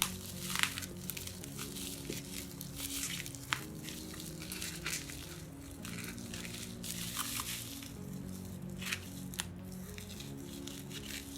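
Plastic wrapping is peeled and crinkled off a cheap Bluetooth mechanical keyboard's plain carton box, a faint, steady run of rustling and crackling with small sharp crinkles scattered throughout.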